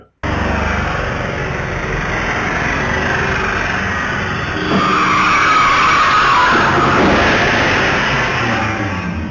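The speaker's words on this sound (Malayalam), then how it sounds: "നിയന്ത്രണം നഷ്ടമായ കാർ ഒരു ബൈക്കിനെ ഇടിച്ചതിനു ശേഷമാണ് കടയിലേക്ക് ഇടിച്ചു കയറിയത്" A car loses control on a street in Kanhangad, strikes a motorbike and crashes into a shop, heard as a loud, sustained roar of skidding and engine noise that swells midway and carries on without a distinct single impact.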